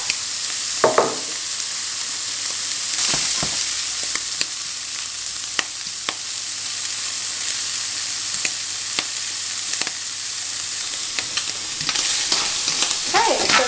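Prawns fry in a pan, a continuous close sizzle with scattered sharp crackles and a few louder bursts of spatter and stirring, no voices.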